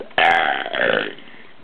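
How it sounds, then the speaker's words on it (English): A person lets out a single long, loud, croaking burp at close range, its pitch wavering before it trails off into silence. "Your burps sound hilarious."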